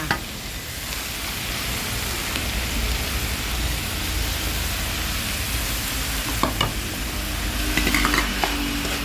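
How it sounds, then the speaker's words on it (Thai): Close, continuous sizzling as minced pork and carrots are stir-fried in a pan, with scraping spatula strokes and a few clatters of utensil against metal near the end. "ผัดต่อไปค่ะ"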